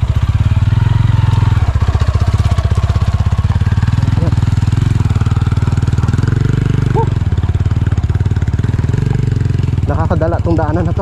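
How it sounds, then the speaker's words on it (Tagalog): Motorcycle engine running on a rough dirt road, a steady loud mid-pitched drone close by throughout, with people talking over it. "May nakakadaang motor."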